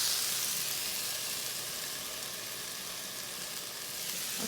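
Frozen chicken lo mein from Aldi sizzles steadily in a pan, a close, even hiss of frying noodles with faint scraping as it gets a final stir, no voices heard.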